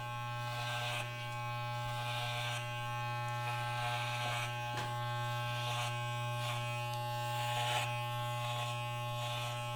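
Electric hair clippers buzz steadily up close throughout a men's clipper cut, with brief rustling surges as the blades move through hair.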